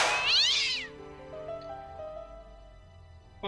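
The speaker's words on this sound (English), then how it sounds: "Oh, it's jump scare cat!" A cat's sharp meow bursts out of a battered trash can as a jump scare in Broken Sword: Shadow of the Templars Reforged, one loud call under a second long, then quiet game ambience with soft tones.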